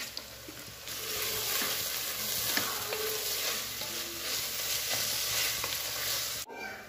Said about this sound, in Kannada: ಹೆಚ್ಚಿಟ್ಟಂತಹ ಹಸಿಮೆಣಸಿನಕಾಯಿ, ಕೊತ್ತಂಬರಿ, ಪುದೀನ ಹಾಕಿ ಸ್ವಲ್ಪ ಫ್ರೈ ಮಾಡಿ